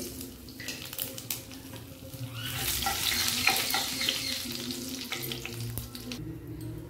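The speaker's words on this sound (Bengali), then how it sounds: "ওই তেলের মধ্যে ফোড়ন দিয়ে দেবো তেজপাতা, শুকনো লঙ্কা, জিরে।" Bay leaf, dried red chilli and cumin sizzle steadily in hot oil in a home kitchen where fish was fried before, a continuous close frying hiss with no talk, swelling slightly toward the middle before easing.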